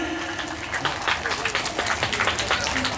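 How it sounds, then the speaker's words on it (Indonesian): At a night-market closing comedy show in Kisaran, an audience breaks into brisk, steady applause, a dense patter of many hands that carries on for a few seconds. "Sikit, tepuk tangan untuk Ahmed."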